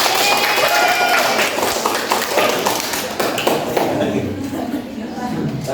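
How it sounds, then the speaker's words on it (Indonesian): A classroom of students claps together in a dense, continuous patter with children's voices mixed in, loud at first and gradually thinning out. "tepuk tangan untuk kita semua"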